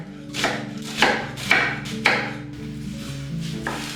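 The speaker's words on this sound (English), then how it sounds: "Next, chop a red onion." A knife chops a red onion on a cutting board in several sharp, separate strikes, spaced irregularly, close and clear. Soft background music plays underneath.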